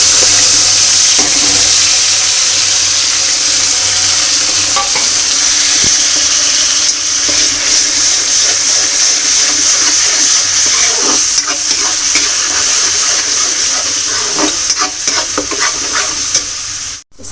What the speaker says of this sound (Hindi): तो ये मसाला पहले मैं अच्छा से भून लेता।